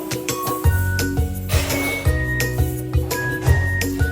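Glasses clink together in a toast at a health and wellness facility branch in La Trinidad, Benguet, a few bright chinks ringing over a rhythmic musical backing with steady beats.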